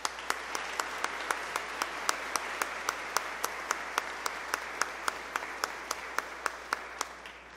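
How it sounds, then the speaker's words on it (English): Evenly spaced sharp claps at a steady rhythm, as from a single clapper or a small group keeping time, ring through the church at Sunday Mass for graduating seniors, fairly faint over a quiet room. "Let's give them a big round of applause."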